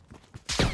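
A burst gun fires in a video game, a loud rapid volley erupting at the end after a few quieter clicks and thumps.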